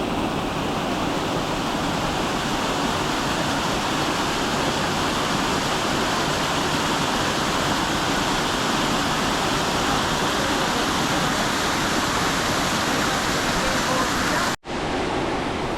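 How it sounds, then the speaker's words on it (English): Steady, full-bodied roar of a waterfall on Branch Creek at Bellthorpe, a close and continuous rush of falling water that masks everything else and cuts off abruptly just before the end. "here I am at one of the last waterfalls"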